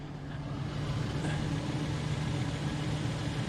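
A truck engine idles in a backyard during an oil change, giving a steady, low rumbling hum at close range that runs without a break and has no voices over it.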